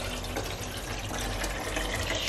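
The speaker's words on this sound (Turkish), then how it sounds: "Su dolduruyorum haznesine." Tap water running steadily into the reservoir of a household cleaning machine, a continuous close rushing pour with no talking.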